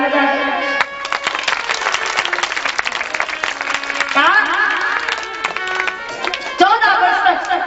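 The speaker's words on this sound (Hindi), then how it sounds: "ऐसे क्यों बैठे भैया जरा ताली लगा दे।" An audience at a devotional Bhagwat katha recitation breaks into loud, sustained clapping, mixed with music and voices throughout.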